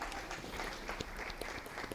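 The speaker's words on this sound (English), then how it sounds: "Let's clap for them as they sit down." An audience at Oshwal Academy Nairobi applauds as people take their seats, a faint, diffuse patter of clapping spread through a hall, low in level and fairly even throughout.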